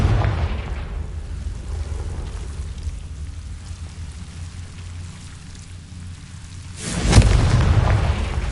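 A Confringo explosive spell from Hogwarts Legacy bursts with a loud, close blast near the end, following a low rumbling ambience that dips and then surges.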